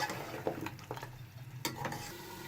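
Masala spices and chillies fry in oil in a pot for beef nihari, a soft steady sizzle broken by a few scraping stirs of a spoon close by, with no talking.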